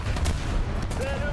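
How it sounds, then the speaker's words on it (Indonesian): A BMP-2M's grenade launcher fires in the War Thunder video game, a short burst of heavy booming blasts with rumbling echo over constant game engine noise. "Tadi tuh salah malah nembakin grenade launcher"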